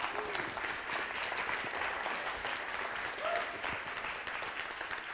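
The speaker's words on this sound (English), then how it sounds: "let's start with a big round of applause" An indoor audience at a masterclass day claps steadily in a sustained round of applause, moderately distant and fairly soft, with a faint voice briefly audible.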